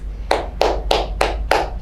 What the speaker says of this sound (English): Claps, claps, claps,